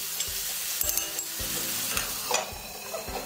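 Chopped tomatoes fry in oil in a pan with a steady, loud sizzle, broken by soft, irregular knocks and scrapes as the pieces are pressed and stirred.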